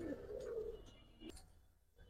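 Pigeons, a Jeeragola and Army Fade pair, coo in a low throaty burst near the mic, then fall quieter with faint chirps toward the end.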